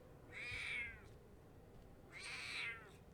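A cat meows twice, two clear drawn-out calls spaced about two seconds apart over a low steady background hum, moderately close and with no talking.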